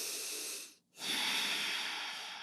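One deep breath during a yoga session, a long airy exhale, a short pause, then a steady breathy inhale, close and clear with no talking.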